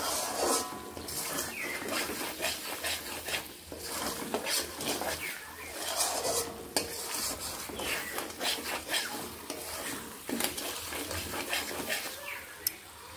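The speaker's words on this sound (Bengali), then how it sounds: "মশলাটিকে আমি বেশ লাল করে কষিয়ে নেব" Spice masala stir-fried in a pan for a pabda fish curry, a spatula scraping and clinking steadily against the metal over a continuous low sizzle, close and fairly loud.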